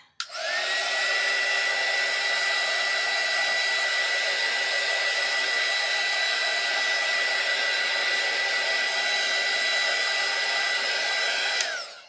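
Hair dryer blowing to dry alcohol inks on a ceramic tile, a loud steady whir with a constant whine that starts abruptly and cuts off near the end, no talking.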